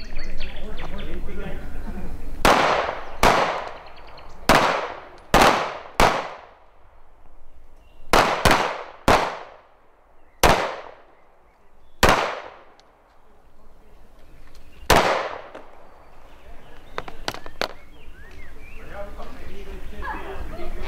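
Pistol shots ring out at an organized live-fire shooting practice, about fifteen sharp, loud cracks in irregular spacing, some in quick pairs, over an outdoor background with occasional voices.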